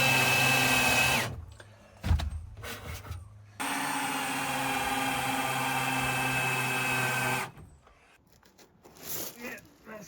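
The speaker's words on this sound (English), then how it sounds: "It drills a hole through the wood." A power drill bores a hole through wood during a Peugeot Partner micro camper build, with two loud, sustained whirring runs separated by a pause and brief scraping and handling noises.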